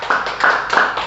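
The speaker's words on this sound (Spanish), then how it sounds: "Bríndele un fuerte aplauso al Señor." Congregation applauding in a church service, a dense run of handclaps in quick rhythmic bursts, loud and close, with little talk over it.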